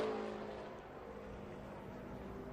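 A NASCAR Xfinity Series race car, the No. 08, running during practice at Kansas Speedway, a 1.5-mile oval. It gives a steady, droning engine roar that holds at an even level throughout, with no voices.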